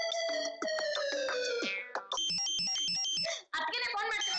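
A phone ringtone plays its melodic tune in repeated phrases, loud and close, with brief gaps between rings.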